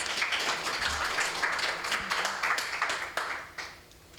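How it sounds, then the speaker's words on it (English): An audience at a healthcare platform launch claps for a speaker, a moderate wash of applause with individual claps audible that trails off over four seconds. "May we please give her a round of applause as she comes."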